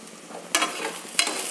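Onions sauté in a pan for tomato rice, giving a steady soft sizzle with two sharp stirring scrapes about half a second apart.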